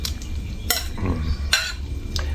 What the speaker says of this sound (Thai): เราใส่สับปะรดนี่ค่อ ยๆค่อย ๆนี่ใส่หมดเลยนะครับสับปะรดเนี่ย